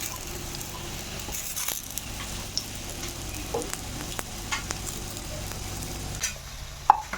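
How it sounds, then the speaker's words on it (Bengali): Litti balls deep-frying in oil, a continuous bubbling sizzle under frequent stirring scrapes and light metal taps from a spoon, with a bright clink at the very end. "এভাবে লাল লাল করে ভেজে নেব, ছেঁকে নেব"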